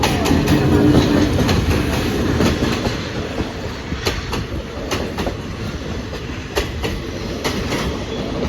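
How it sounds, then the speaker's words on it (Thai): An ordinary third-class passenger train on a northern line rolls along the rails with steady rumble and rhythmic clickety-clack of wheels over joints, loud and close, with occasional brief squeals. "ขบวนนี้เป็นรถธรรมดาสายเหนือนะครับ"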